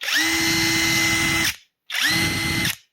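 An Alloyman mid-torque cordless impact wrench runs in two close, loud bursts, a long whine of about a second and a half, a short pause, then a second shorter run with a steady high motor pitch.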